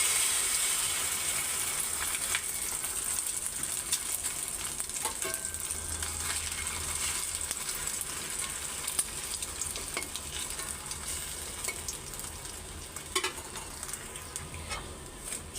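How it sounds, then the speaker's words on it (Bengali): An egg frying in oil on a hot tawa over a stove, a continuous close crackling sizzle with scattered sharp pops and occasional scraping stirs, steady and moderately quiet, with no speech. "তো চুলার মধ্যে তেল দিয়ে দিছি, তাওয়া গরম হয়ে গেছে। ডিমটা আগে ভাইজা নিই"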